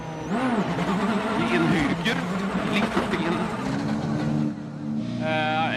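A WRC rally car powers out of a hairpin on a Greek rally stage, its engine revving hard and pitching up and down close by, while someone talks over the noise throughout.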